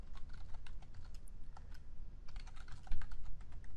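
Rapid clicking keystrokes on a computer keyboard while typing in SQL Developer, steady and close, with a short lull partway through and no voices.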